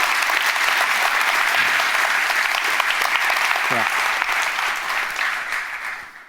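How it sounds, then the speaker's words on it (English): A room full of people gives a round of applause, dense steady clapping that fades gradually toward the end, with a brief voice calling out partway through. "you guys deserve a round of applause"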